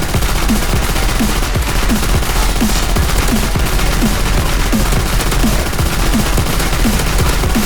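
An MG42 machine gun fires in long, unbroken bursts of rapid, loud rattling in a World War II video game, with a steady pounding mechanical rhythm and rolling battle noise filling the background throughout.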